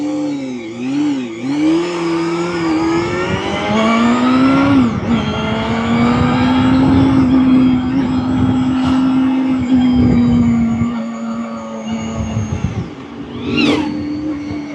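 A car passes with a loud, rising and falling engine whine and drone, nearing then fading, with shifting pitch across the pass.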